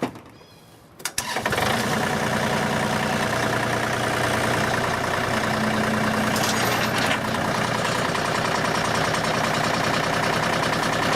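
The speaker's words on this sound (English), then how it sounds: "We'll start the tractor up, and I'll tilt the bucket up" A tractor engine starts with a brief cranking burst, then runs steadily at a loud, close idle while its front bucket is tilted up, a continuous mechanical drone throughout.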